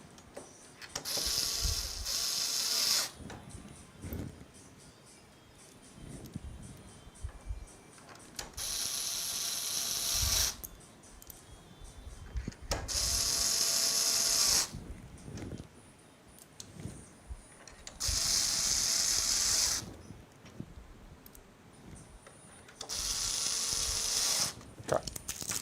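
Zip ties are ratcheted tight during an all-white RTX 5080 PC build, several bursts of rapid close zipping separated by quieter pauses.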